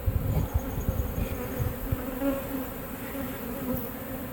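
Honeybees drone thickly and continuously during a hive removal from a mobile home in Lakeland, Florida, with a dense close swarm buzz and occasional louder passes near the microphone.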